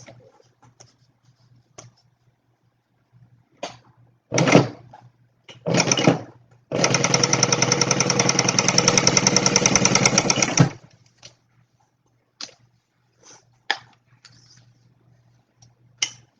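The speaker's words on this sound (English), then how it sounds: "I'm just going to sew 1/4 inch right here" Sewing machine stitching a quarter-inch seam on a small wallet: two short bursts, then a steady four-second run of fast, even mechanical whirring up close, with quiet handling clicks before and after.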